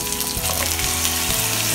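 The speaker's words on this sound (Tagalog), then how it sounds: "Lutuin natin yung chicken for a while. Hanggang mag-brown siya." Chicken for tinola frying in a pan, a dense, continuous close-up sizzle with crackling spatter throughout and no talking.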